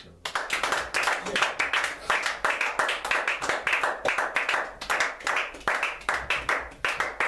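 A church congregation clapping in a fast, steady rhythm while acclaiming the Lord, with voices calling and singing along throughout.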